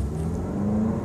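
A 2014 BMW 320i with manual transmission, its engine running steadily with a low mid-range hum and a rising whine near the end, heard up close with no talk.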